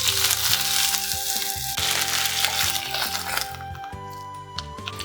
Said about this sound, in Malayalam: പിന്നെ കുറച്ച് വേപ്പിൻ്റെ ഇല ഇട്ട് കൊടുക്കാം.